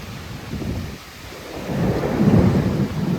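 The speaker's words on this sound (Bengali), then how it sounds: "এত ঝড় আমি মনে হয় দেখিনি। এত ঝড়, এরকম ঝড় পানি।" A violent Kalbaishakhi thunderstorm with rain in Murshidabad, West Bengal, rumbles with deep, rolling thunder that swells in the second half over a steady wash of rain and wind.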